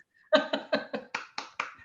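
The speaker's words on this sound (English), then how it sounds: "Round of applause. Our signature applause." A happy-hour group performs its signature applause: seven sharp, evenly spaced claps in a tight rhythmic pattern, loud and close, with no talking.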